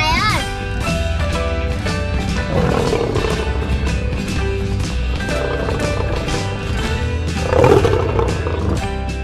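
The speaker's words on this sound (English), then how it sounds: "L for lion. L for lion." A cartoon lion roars several times in a children's alphabet learning clip, each roar rising over continuous bright background music, with a stronger burst near the end.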